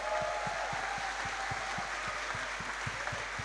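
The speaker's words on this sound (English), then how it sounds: "he definitely deserves a massive round of applause" Concert audience applauding the music director in Cork City Hall, a steady wash of clapping holding an even level throughout with no voices over it.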